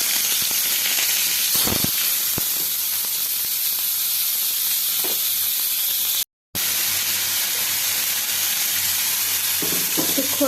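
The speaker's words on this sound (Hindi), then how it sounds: "प्रथमे कड़ाई रे सोरिष तेल को गरम करिबा, तापरे ए सुखुआ को देई भाजी नबा।" Salted dried fish frying in hot mustard oil in a kadai, a steady close hiss and sizzle throughout with occasional utensil taps and one brief dropout.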